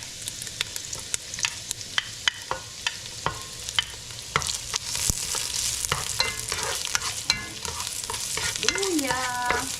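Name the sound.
ginger (luya) frying in hot pan for chicken tinola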